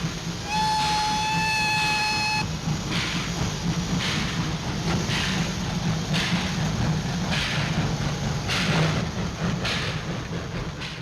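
A train departs from the second platform of an old station in 1951 Croatia, starting with a long shrill whistle, then a steady rumble with rhythmic puffs and clanks close by.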